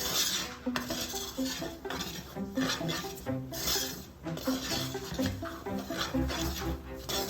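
Flour being stirred into pork chop drippings in a pan for gravy, heard as a close metal utensil repeatedly scraping and clinking against the pan in a steady rhythm under a continuous sizzle.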